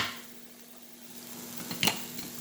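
Onions cooking in a pan give off a faint, steady sizzle, and a brief clatter near the end sounds like stirring or a utensil scraping the pan.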